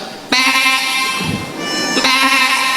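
A person imitates a sheep's bleat, two wavering nasal bleats with a short pause between, close and fairly loud.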